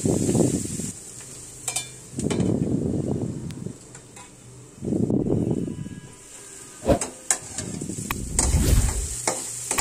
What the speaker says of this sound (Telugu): ఉల్లిపాయలు ఫ్రై అవుతుంది చూడండి, ఇలా గోల్డెన్ బ్రౌన్ కలర్లోకి రావాలి